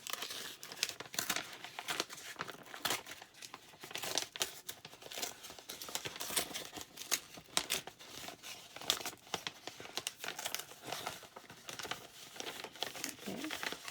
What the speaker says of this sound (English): this one came in a little flat envelope. So let's go ahead and open it up.